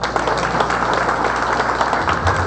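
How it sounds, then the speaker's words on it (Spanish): Guests applaud at a combined birthday and wedding anniversary celebration for elderly grandparents, a steady, dense wash of clapping that fills the short moment without pause. "Ahí están los aplausos"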